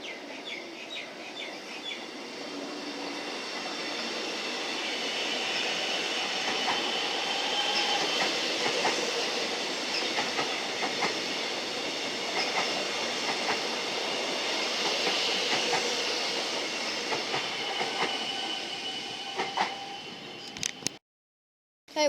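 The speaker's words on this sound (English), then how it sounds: "We're here for the train that's currently going through to Flemington Racecourse." A Metro Melbourne suburban train bound for Flemington Racecourse on a Melbourne Cup special rumbles past with rhythmic clickety-clack. The sound builds to a sustained loud pass and then cuts off, while birds chirp in the background.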